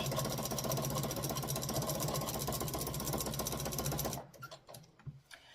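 A sewing machine quilting an owl quilt runs with a fast, steady mechanical whir and rapid needle clatter, close and even, then stops abruptly near the end, leaving faint handling noises.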